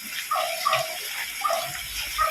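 Floodwater from a street that has swollen like a river pours into a drainage sinkhole, a steady gushing wash with splashy surges, close and moderately loud, with no talking.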